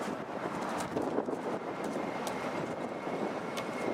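A Delta Airbus A320 arriving at Atlanta's Hartsfield-Jackson airport, heard as a distant, steady jet roar mixed with wind buffeting the microphone, without voices.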